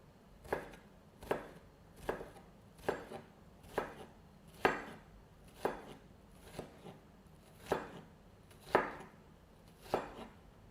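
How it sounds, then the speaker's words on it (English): A knife chops ingredients into small pieces for meatballs on a cutting board, a sharp distinct chop roughly every second, about a dozen strikes in an even rhythm, close and clear over a quiet room. "Just chop it like this."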